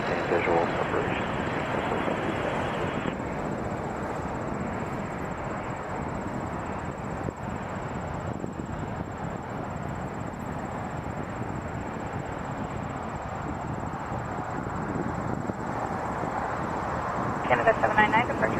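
An airliner on its takeoff roll from runway 23 at Toronto Pearson gives a loud, steady, broadband engine roar that fills the whole stretch, while radio voices talk over it.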